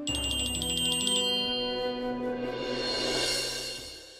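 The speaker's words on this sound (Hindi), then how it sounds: "आना फोन कर रही है।" A phone ringtone plays a bright repeating electronic melody, loud and close, running steadily for several seconds with no one speaking.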